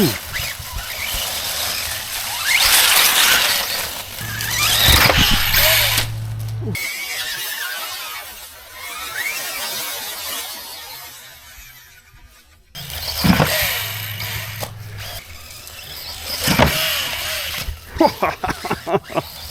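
A Rlaarlo X12S RC buggy whines and revs during outdoor testing, its electric motor surging, dropping away, then returning in quick bursts toward the end, with occasional voices nearby.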